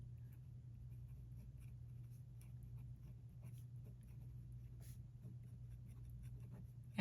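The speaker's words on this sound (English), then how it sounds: "to write with this pen on my standard old Tomoe River" Faint scratching of a TWSBI 580 Iris fountain pen forming block letters on Tomoe River paper, soft irregular strokes over a low steady hum, close but very quiet, with no talking.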